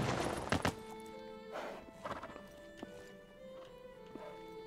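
Hooves clip-clop on the ground as a horse walks in the medieval MMO game Life is Feudal, with a few sharp thuds and a faint neigh over steady game ambience.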